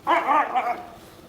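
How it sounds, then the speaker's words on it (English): One short, bright bark from a dog kept with a lion cub, clear and close, fading into quiet room tone. "It is unusual to see dogs with a lion cub."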